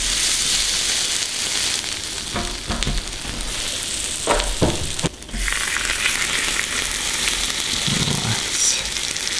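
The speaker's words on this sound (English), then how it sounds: "It's frying on top of the babka." Warm syrup poured over a hot sourdough babka fries and sizzles steadily up close, with a few clinks and stirring sounds and no talking.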